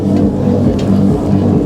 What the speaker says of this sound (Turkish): Kalabalık bayağı tekne.